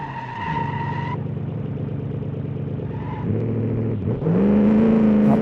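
Sports car engine in BeamNG droning steadily through a braking run, the tone dropping as it slows, then rising again toward the end; close and loud, with no talking.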